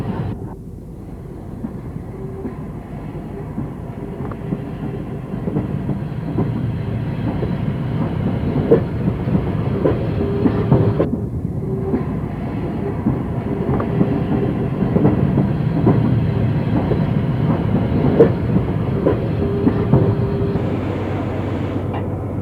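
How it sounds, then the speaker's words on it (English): Steam locomotive 70000 Britannia works at Liverpool Street Station. A loud, steady rumble of engine and train movement carries rhythmic clanks and a faint whistle-like tone, with no voices. "this is 70000 Britannia, an engine which lives on to this day"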